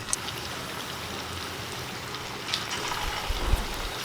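Potato and semolina rings sizzling in hot cold-pressed oil over medium heat, a steady, moderately loud bubbling crackle with a few small pops near the end.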